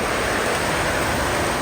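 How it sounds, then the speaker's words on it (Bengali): Heavy rain pours at night in a steady, dense, broadband wash that holds constant throughout, with no voices or other distinct sounds standing out above it. "অনেক জোরে বৃষ্টি হচ্ছে, আরো বৃষ্টি বাড়লো"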